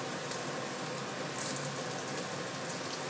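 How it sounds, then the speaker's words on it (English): Onions dropped into hot oil in a pot while cooking an Indian curry, giving a steady, close sizzling hiss with fine crackling throughout and no voices. "Now I'm gonna add the onions"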